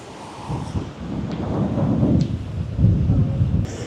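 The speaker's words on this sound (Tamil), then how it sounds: "இப்போ பயங்கர காத்தாவும் இருக்கு" Strong cyclone wind in coastal Batticaloa buffets the microphone in heavy, rumbling low gusts that swell and ease over a few seconds, loud and close, with no voices.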